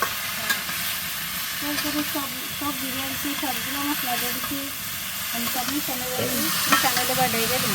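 Food is stirred and mixed in a frying pan with continuous scraping and soft sizzling, while a voice talks over it.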